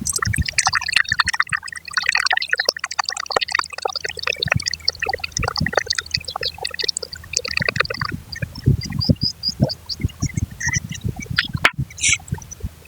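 Water pours and splashes in uneven bursts while cooking horse gram dal, close by, with birdlike chirps and quacking in the background throughout.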